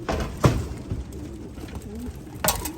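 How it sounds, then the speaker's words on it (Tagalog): Soft coos from racing pigeons back from a race repeat at a low pitch against a background of faint rustling and a few sharp knocks, close by and fairly quiet. "mga ibon natin."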